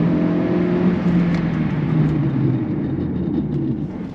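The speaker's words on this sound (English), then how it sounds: "I'm gonna just give y'all first gear from 3000. Spinning, still spinning" Tuned Hyundai Elantra N with a stage 2 tune pulling hard in first gear from 3000 rpm on sticky Potenza tires, a loud continuous engine drone and whir holding steady throughout, heard up close with no voices.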